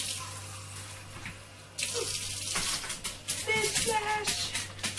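Tap water runs to fill a bowl for the dogs, starting with a sudden gush partway through and then splashing steadily at close range. Faint sounds of people and dogs appear around it.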